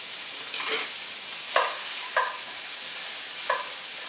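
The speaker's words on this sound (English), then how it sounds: "Give them a good saute." Onions sautéing in extra virgin olive oil in a stainless steel pan, a soft steady sizzle broken by a few sharp scrapes as they are stirred, close and without talk.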